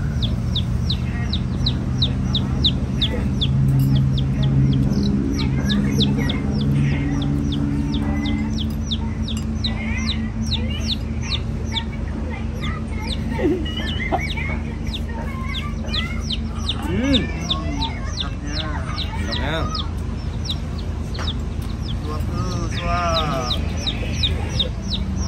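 Chickens cluck and chirp repeatedly throughout over steady background noise, some close and some farther off, with occasional faint voices mixed in.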